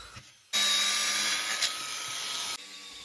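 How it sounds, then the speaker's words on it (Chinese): A specially lengthened angle-grinder drill bit bores holes into a wall while installing a cabinet, a loud steady high-pitched whine lasting about two seconds after a brief quiet lead-in, then cutting off abruptly. "打孔用的是角磨机钻头，"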